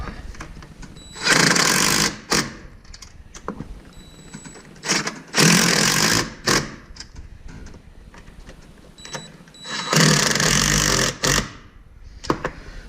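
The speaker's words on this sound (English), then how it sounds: "So I'm going to just take my little impact driver and run these up." A small cordless impact driver runs nuts down on a Polaris RZR windshield enclosure, firing in three loud whirring bursts of one to two seconds each, separated by quieter pauses with faint background noise.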